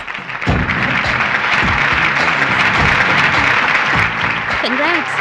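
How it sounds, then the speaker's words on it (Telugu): An audience at an award ceremony applauds in a loud, dense wash of clapping that carries through the whole stretch, with voices mixed in and a cheer near the end. "క్లాప్స్!"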